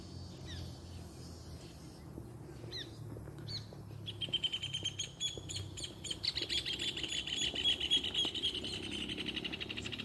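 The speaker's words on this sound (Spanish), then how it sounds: "Escuchan los pajaritos." Small birds chirp outdoors beside a vegetated creek near a stadium in José María Jáuregui, Buenos Aires, at first with sparse faint calls, then with dense, rapid high twittering over a low background rumble.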